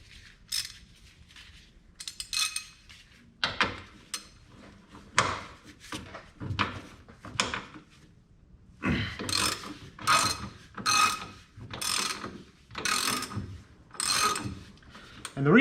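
A ratchet with a 7/8 socket loosens a nut on a 1979 Lincoln Continental, giving close, crisp clicking bursts in a repeated back-and-forth rhythm, sparse at first and then quicker and more regular.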